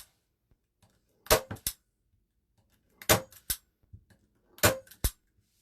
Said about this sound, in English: then I'm going to staple this side in place